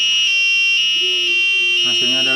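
An Arduino two-button doorbell gives a steady electronic buzzer tone, repeating in short pulses before shifting to a lower pitch near the end, loud and close.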